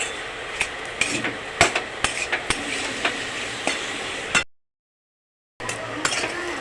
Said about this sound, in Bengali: দিয়ে ফের একটু নেড়ে ভেজে নেবো নারকেলের সাথে